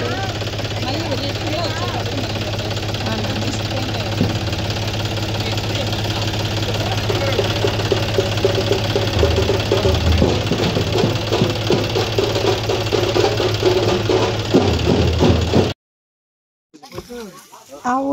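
A tractor engine chugs with a steady, knocking idle rhythm, loud and close, and grows slightly rougher before cutting off abruptly near the end. Faint voices can be heard in the background.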